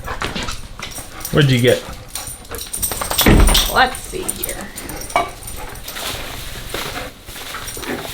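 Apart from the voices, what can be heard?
dogs whimpering and barking in an RV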